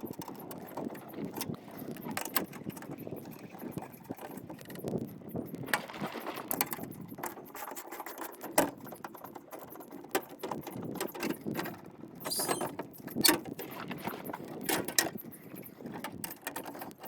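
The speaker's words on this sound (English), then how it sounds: "12 millimeter socket, using my handy dandy Weir socket wrench." A 12 mm socket on a Weir ratcheting socket wrench works bolts loose on a Kubota RTV X1140 utility vehicle, giving quiet, irregular clicking ratchet bursts and metallic taps spread across the stretch, fairly close and faint.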